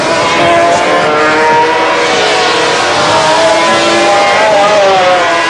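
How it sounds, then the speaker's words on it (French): A 500cc Grand Prix racing motorcycle screams past the pits at over 220 km/h on a wet track at Assen in 1985, a loud, close, sustained high-revving engine roar with a slight pitch shift as it passes. "Mamola file seul devant et passe devant les stands à plus de 220 km/h sur le mouillé"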